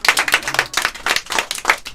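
A small group claps briskly for about two seconds, close and loud, with uneven overlapping handclaps in clustered bursts and no talking.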